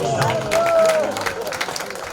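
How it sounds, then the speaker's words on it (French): At a twinning anniversary gathering, a crowd gives brief applause mixed with cheering and chatter, while a sustained whistle-like tone briefly rises above the clapping. "Les applaudissements pour les deux."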